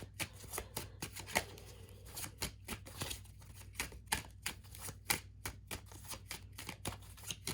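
Tarot cards are shuffled by hand in quick, close riffles and slaps, a soft rhythmic patter of card snaps running unbroken and fairly faint.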